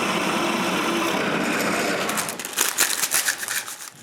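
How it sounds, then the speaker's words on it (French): A drill bores a large hole in wood to hold a pencil, a steady close whirring hum that breaks into rougher, uneven chattering bursts as the bit bites toward the end. "Je perce donc un gros trou pour le crayon."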